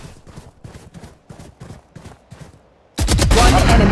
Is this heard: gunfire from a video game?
yes